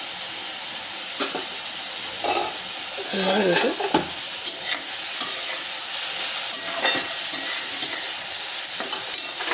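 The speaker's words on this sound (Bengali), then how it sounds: "দেখুন এইভাবে হালকা করে নাড়াচাড়া করবো" Ridge gourd sizzles in a frying pan with salt as a utensil stirs it, giving a constant hiss broken by brief scraping strokes and soft clatters of the spoon against the pan.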